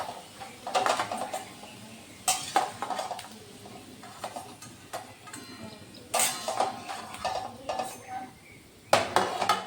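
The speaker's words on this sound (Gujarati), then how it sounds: "આપણી ડુંગળી છે એ ગોલ્ડન બ્રાઉન થઈ ગઈ છે, તો આપણે એને થાળીમાં લઈ લેશું." Golden brown fried onions are scooped from a pan onto a plate while making bhajiya kadhi, with several sharp metallic clinks and scrapes of utensil against cookware spread across a low background hum.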